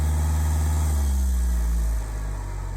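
Ford Fusion 1.4 TDCi diesel engine, experimentally running on added hydrogen, holds a steady loud rumble whose pitch rises as it revs higher, then drops to a lower, slightly uneven drone near the end.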